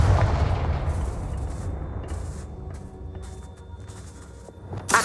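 A Confringo blasting curse explodes in Hogwarts Legacy: a loud, close boom that rumbles and fades over several seconds, followed by a sharp burst at the end.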